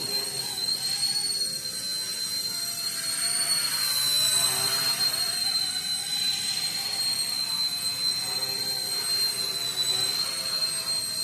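A radio-controlled Bell 206 helicopter, flown with a heavier battery pack, whines steadily with a high, turbine-like tone that holds through the whole stretch, rising slightly mid-flight as it maneuvers beyond a hover, with no talk over it.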